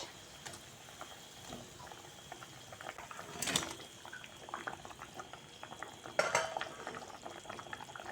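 Water bubbling at a low boil in a pot on the stove for Bengali rui fish kalia, a faint continuous simmer with two brief louder clinks of a utensil against the pot, no talking.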